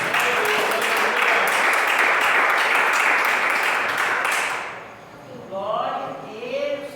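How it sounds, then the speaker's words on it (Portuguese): Church congregation applauding together, a dense, steady clatter of many hands that holds loud for about four seconds before fading, after which a voice speaks alone. "Palmas para o Senhor Jesus."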